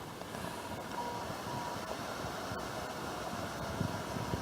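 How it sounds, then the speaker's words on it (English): A distant freight train gives a faint, steady low rumble across a quiet outdoor background, with no clear horn or wheel clatter. "And I'm waiting for a freight train."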